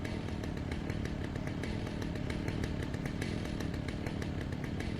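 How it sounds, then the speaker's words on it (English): A chainsaw enemy in a video game revs continuously, a loud buzzing engine drone with a rapid pulsing chatter that holds steady throughout, with no talk over it. "What, the chainsaw?"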